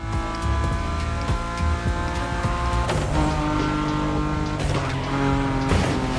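A BMW M5 Drift Edition drifts in the racing game The Crew Motorfest. Its loud engine roar climbs and drops through revs and gear shifts, and bursts of tire squeal cut in over the top.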